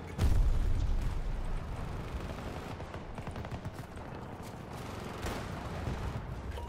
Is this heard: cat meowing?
no